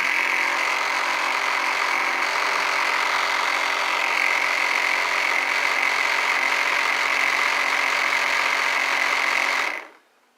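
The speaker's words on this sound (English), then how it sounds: "All that noise is coming from where the motor couples to the gearbox." A steady electric motor whine with gear hum from where the motor couples to the gearbox runs evenly for about ten seconds, close and loud, then cuts off abruptly.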